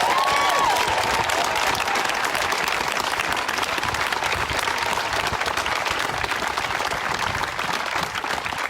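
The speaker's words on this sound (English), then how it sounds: "Let's give her another round of applause." Crowd applause at an outdoor community march for Black Lives, a steady, sustained wash of clapping from many people at a moderate distance, continuing evenly throughout with no clear talk over it.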